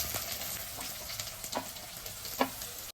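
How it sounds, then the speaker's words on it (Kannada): Garlic, green chilli and onion sizzle in hot oil with a steady broadband crackle, broken by a few louder pops and spatters near the end; no voices. "ಎಣ್ಣೆ ಬಿಸಿ ಆದ ನಂತರ ಬೆಳ್ಳುಳ್ಳಿ, ಹಸಿಮೆಣಸು, ನೀರುಳ್ಳಿ"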